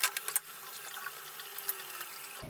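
Running water rinses a shaving brush, a steady faint splash and trickle at close range, with a few small clicks and knocks at the start.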